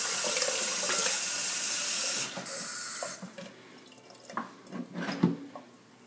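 Cool tap water runs steadily while rinsing hair extension bundles at a sink, a loud close gush that shifts and then cuts off, leaving drips and splashing handling sounds.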